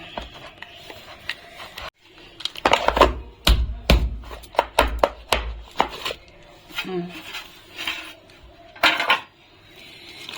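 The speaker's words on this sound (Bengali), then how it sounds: "এখন আমি এটাকে চারিদিক দিয়ে একটু ছুরি দিয়ে ছাড়িয়ে নামাবো" A knife runs around the edges of a set semolina milk cake to loosen it from its tray, giving a series of close, irregular metallic scrapes and clinks with brief pauses between them.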